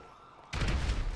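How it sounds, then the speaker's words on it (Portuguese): A sudden loud burst of in-game explosions and rapid gunfire in GTA V follows a half-second of quiet, then holds at full volume to the end. "Estão explodindo tudo aqui."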